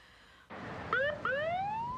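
An ambulance siren wails in two rising sweeps, the second stretching longer, heard moderately close with no talk.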